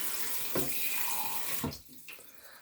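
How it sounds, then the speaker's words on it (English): A little water poured from a tap into a slow cooker holding ribs, a steady close splashing stream with brief breaks, cutting off near the end. "I'm gonna put just a little bit of water in there"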